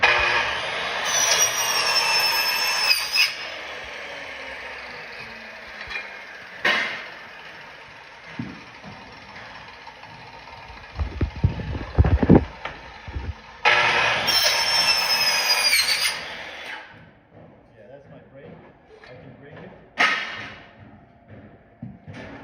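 A standing seam metal roofing panel is cut quickly over a plywood jig. Harsh, loud bursts of metallic shrieking cutting come in two main runs, with sharp knocks and rattles in between.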